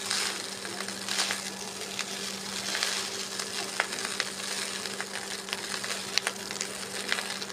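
Chicken fried rice made with a kilogram of rice sizzles steadily in a pan while being stirred, with scattered scrapes and clicks over the continuous hiss.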